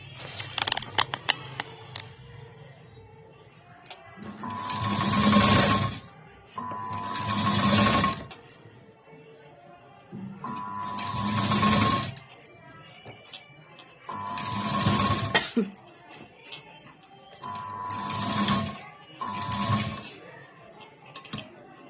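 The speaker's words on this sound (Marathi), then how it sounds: "एकदम पायपिंगच्या कडेला शिलाई द्यायची" A sewing machine runs in several distinct stitching bursts of a few seconds each, stitching right along the edge of blouse piping. Each burst carries a loud rapid mechanical whir, separated by quieter pauses with handling clicks.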